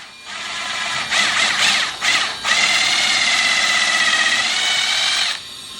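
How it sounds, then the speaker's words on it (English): A power drill bores a 3/16 inch pilot hole into wood for a hanger bolt, a loud steady whine that briefly stutters and dips before running continuously for several seconds, then cutting off. "Here I'm drilling a 3/16 inch pilot hole at the middle point"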